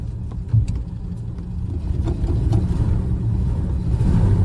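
A VK Dodge ute's Valiant Pacer-powered engine runs steadily at idle, a close, continuous low rumble with a slight rise in intensity partway through.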